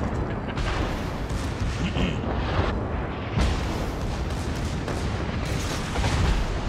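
Warship secondary guns fire in rapid succession during a World of Warships naval battle, a dense, continuous barrage of booms and bursts rolling one into the next at steady loudness with no pause.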